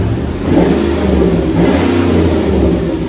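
Chevy Avalanche 5.3L V8 exhaust revving, a loud, steady, deep rumble that swells and eases over a few seconds, heard close with no voices.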